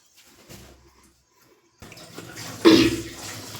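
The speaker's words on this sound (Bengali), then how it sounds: "এবার আমি হাতটা ধুয়ে নিই" Running tap water splashes over hands being washed in a home kitchen, at first faint, then a louder rush of water near the end, with no talk.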